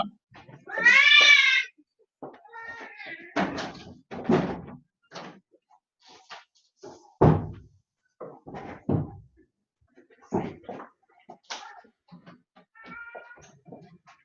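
A house cat meows at close range, a loud call near the start and softer ones later, among scattered knocks and thumps that sound like a door being handled.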